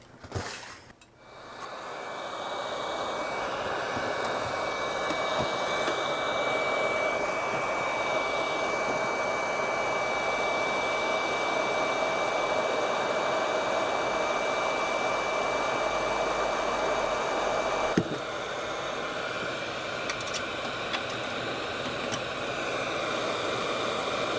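Steady hot air blowing from a desoldering tool heating Commodore 64C pins, a continuous close airy hiss with a faint whine, ending in a small click and a softer tail.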